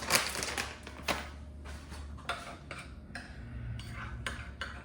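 Spoon scraping and tapping in a bowl as elote taco filling is mixed with mayo and sour cream, a run of soft clinks and scrapes at close range with no talking.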